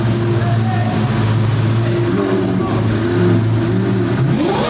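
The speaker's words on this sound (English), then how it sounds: "Thank you for the revs." A Lamborghini engine revs on a narrow London street, a loud, low, throbbing tone that holds steady and then rises, with voices faintly underneath.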